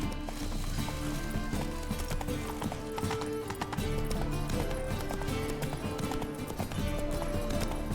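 Roach, Geralt's horse in The Witcher 3, gallops with a steady, rapid clip-clop of hooves, close and continuous, over a backdrop of game music.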